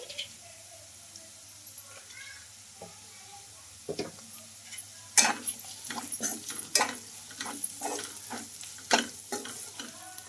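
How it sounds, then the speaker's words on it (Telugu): Vegetables coated with chili powder, coriander powder, garam masala and salt are stirred in a frying pan, a soft sizzle under irregular scraping and clattering strokes that grow busier and louder partway through, close up with no talking. "ఈ మసాలాలన్నీ ఈ వెజిటేబుల్స్కి పట్టేటట్లు బాగా కలిపేసుకున్నామండి"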